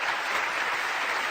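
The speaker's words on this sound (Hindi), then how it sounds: "उन सबको मैं अपनी ओर से जोरदार तालियां देना चाहता हूं" Loud, dense applause from a group rewarding a correct quiz answer, a steady wash of clapping with no pauses.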